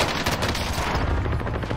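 Gunfire in an online shooter video game, a dense rapid automatic burst that fills the whole moment, loud and continuous without pause and with no voices over it.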